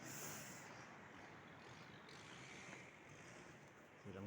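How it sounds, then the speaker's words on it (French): A distant mountain waterfall gives a faint, steady rushing hiss that carries on unbroken, heard from a viewpoint high above on a road trip in Germany. "On entend une cascade"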